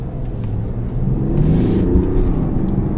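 A car pulls away from traffic lights and accelerates, its engine rumbling low and building steadily louder and fuller over a few seconds, heard from inside the cabin with no talk.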